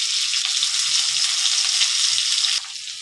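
Chopped garlic and onions sizzle loudly in hot oil in a pan, a dense close hiss with light stirring taps, easing to a quieter fry near the end.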